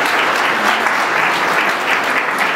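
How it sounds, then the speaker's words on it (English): An Everest Day 2022 event audience applauds Peter Hillary, a steady, dense roar of many clapping hands that stays loud throughout, with no speech on top. "can we give Peter Hillary a big round of applause"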